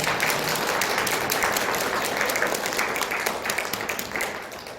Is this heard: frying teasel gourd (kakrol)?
no